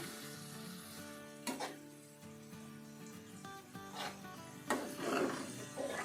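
Tomatoes and green chillies frying in a pan over low heat, giving a steady close sizzle with occasional scraping and stirring bursts, no voices.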